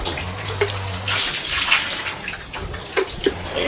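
Water poured from a hose or container into a trough for farm animals to drink, a steady gushing splash at moderate distance with faint outdoor background and no speech.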